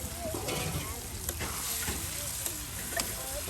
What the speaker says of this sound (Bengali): একদম ডিমগুলো কিন্তু এই মশলার সাথে বেশ সুন্দর করে কষিয়ে নেওয়া হচ্ছে।